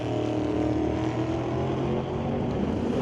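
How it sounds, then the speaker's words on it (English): Alcohol-fuelled drag racing car at a test and tune session, a steady, fairly faint engine roar heard from a distance for a few seconds. "That sounds like an alcohol car."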